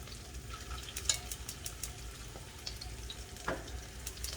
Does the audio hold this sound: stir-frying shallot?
yes